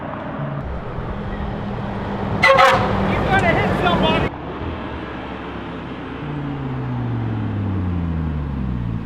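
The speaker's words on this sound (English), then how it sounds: "I told him to honk." Car horn honks in a burst of blaring tones from a car near an Audi RS3 with an AWE exhaust, lasting about two seconds amid street traffic noise, followed by a passing engine sweep.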